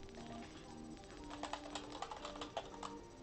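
Fingers tap on a computer keyboard, a quiet run of irregular clicks that grows busier in the second half, faint and close against a low background hum.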